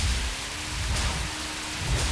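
Steady rain hisses at night in The Crew Wild Run racing game, a dense wash of drops with a low rumble underneath and no talking.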